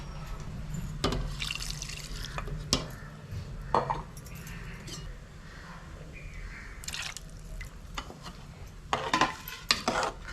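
A mutton curry stirred in a cooking pot, with soft liquid sloshing and scattered sharp clinks of a spoon against the pot, irregular and close, with no talking.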